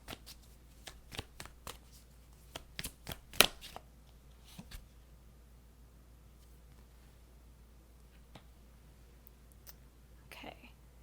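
A tarot card is drawn and handled from a deck, heard as a quick series of close, crisp card flicks and slaps early on, then a quieter rustle with faint soft voice underneath.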